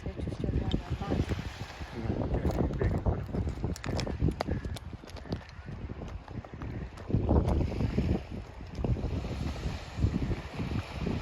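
Strong seashore wind at Burgsvik, loud gusty rumbling buffeting the microphone throughout, swelling in bursts, with the faint wash of waves beneath.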